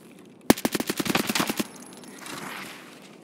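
An AKM rifle fires a rapid burst of roughly a dozen loud shots in a video game, then the sound fades into quieter in-game ambience.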